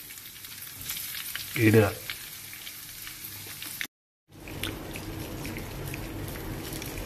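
Marinated sardines (mathi) drop into hot oil in a pan, giving a steady close sizzle with a louder burst of frying as the fish goes in, a brief gap, then continued crackling with a few words spoken over it.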